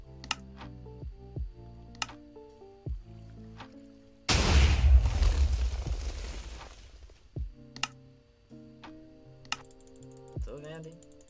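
In a Minecraft factions game, a cannon blast sets off a single long, rumbling explosion midway, surrounded by sharp clicks and short tonal blips before and after.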